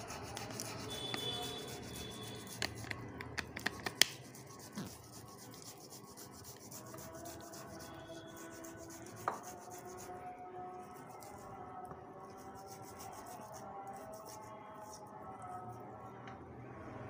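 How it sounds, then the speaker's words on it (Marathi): Potatoes being grated by hand for potato masala puri, quiet continuous rasping strokes close up with a few sharp clicks early on and faint background sounds. "बटाटा किसून घ्यायचा."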